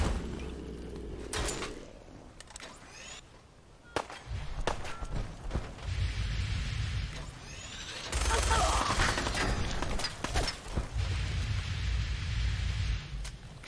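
Gunfire in the virtual reality game Fallout 4 VR, with bursts of sharp, rapid shots and clattering impacts scattered across the stretch, loud and close, separated by quieter gaps.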